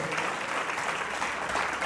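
A church congregation applauds God at a worship service, a steady wash of clapping from many hands, moderately distant and continuous for the whole moment.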